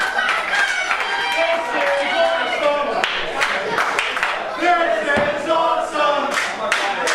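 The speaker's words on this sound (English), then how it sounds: "Crowd showing their appreciation for both men, saying this is awesome" A wrestling crowd chants together in a rhythmic, repeated call, mixed with clapping and scattered shouts, loud and close throughout.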